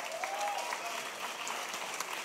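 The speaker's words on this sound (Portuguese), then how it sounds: "Um aplauso para a Clarice." An audience applauds Clarice, a helper selling books at a book launch; steady clapping fills the whole short stretch at moderate level, with a faint voice line briefly audible early on.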